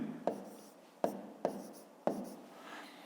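A pen writes numbers by hand for a math exercise, making four sharp, quiet taps and scratches spaced unevenly against a near-silent background.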